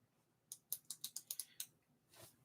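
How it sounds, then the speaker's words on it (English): A computer mouse or keyboard clicks about eight times in a quick, close, quiet burst, followed by one softer click, with no talk. "I should stop clicking."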